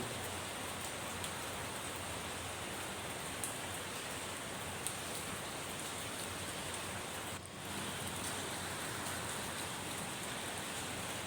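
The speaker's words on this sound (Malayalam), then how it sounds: "എറണാകുളത്ത് മാത്രമല്ല കേരളത്തിൻ്റെ മിക്ക ജില്ലകളിലും ശക്തമായ മഴയാണ് പെയ്തുകൊണ്ടിരിക്കുന്നത്" Heavy rain falls across Ernakulam, Kerala, a dense, uniform hiss that continues unbroken and fairly distant, with no voices over it.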